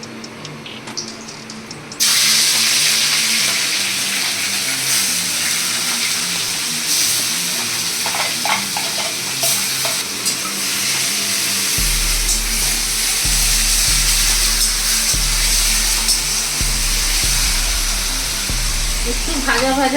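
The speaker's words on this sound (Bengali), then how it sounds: "পেঁয়াজ লঙ্কা কুচিটা আমি দিয়ে দেব।" Chopped onion and green chili hitting hot refined white oil in a kadai: after a quiet opening, a loud, sustained sizzling hiss erupts suddenly and continues steadily, with a low hum joining later.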